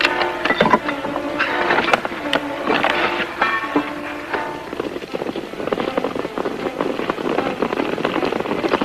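Rapid pops and crackles of firecrackers going off in bursts, mixed with busy background noise that continues steadily.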